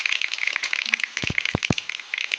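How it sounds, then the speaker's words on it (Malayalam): Mustard seeds hit about two teaspoons of hot oil in a pan and give off a quick scatter of sharp little pops and crackles. They sound close but fairly soft, with a few louder bursts near the middle. "ഒരു 2 ടീസ്പൂൺ എണ്ണ ഒഴിച്ച് അതിലേക്ക് കടുകിട്ട് കൊടുക്കുന്നു."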